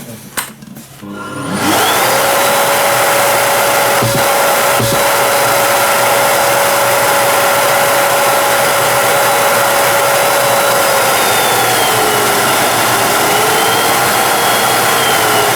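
A Bosch GAS 12-40 MA construction vacuum cleaner switched on at maximum power, spinning up within a second or two into a loud, steady, close whine that holds without a break for the rest of the clip.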